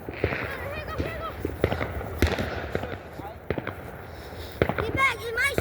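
New Year fireworks are set off nearby, with sharp scattered bangs and crackles and some whistling rises, while people talk and call out between the blasts.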